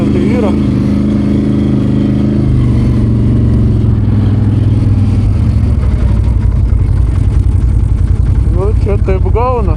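A car engine runs steadily close by, its low hum swelling into a harder rev partway through, with voices talking over it.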